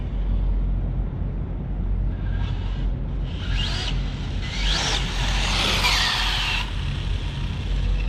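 An Arrma Limitless RC car with a Mamba Monster X 8S ESC drifting sideways on pavement, a steady loud motor whine with rising and falling high-pitched sweeps and tire scrub over constant low rumble.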